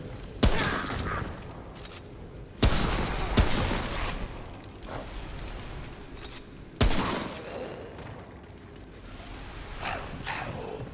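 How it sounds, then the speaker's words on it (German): Several loud booming blasts of exploding barrels go off a few seconds apart amid a busy rumbling soundscape in the video game Remnant: From the Ashes, each burst followed by crackling debris. "Wir müssen mal aufpassen, die Fässer explodieren."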